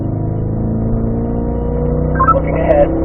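Car engine accelerating in fourth gear on a driving course, a steady, loud engine drone heard from inside with a slowly rising tone, holding throughout.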